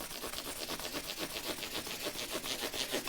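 An Epiphone ES339 guitar's bridge area is sanded by hand with 1000 grit sandpaper, giving quick back-and-forth rubbing strokes in a steady rhythm, close and fairly loud.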